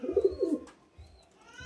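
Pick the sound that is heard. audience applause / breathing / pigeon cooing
pigeon cooing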